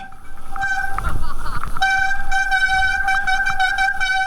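Motorcycle brakes squeal on a ride around the Bataan loop: a shrill, steady, horn-like tone that flickers briefly, then holds loud and sustained over a low road rumble.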